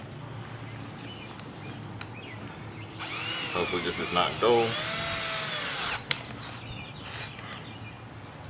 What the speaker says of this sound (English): I'm gonna start off with a small drill bit.